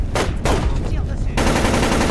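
Gunfire in the video game Splinter Cell Chaos Theory: loud, rapid automatic bursts, a couple of short volleys followed by a sustained stream of shots, close and harsh, with no talk.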